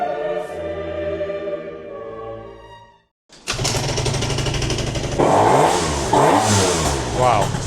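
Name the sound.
motorbike engine revving with Stage 6 overrange kit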